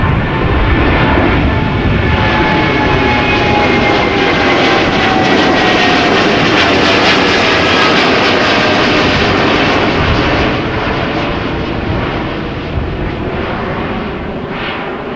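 A jet airliner taking off at Amsterdam Schiphol on a windy day, a loud, broad engine roar with a steady whine, close at first and gradually fading.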